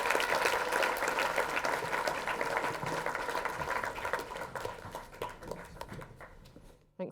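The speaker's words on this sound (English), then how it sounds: "Can everyone please give David a big round of applause" Audience applauding a pitch competition finalist, dense and sustained clapping from a crowd that gradually thins and fades out near the end.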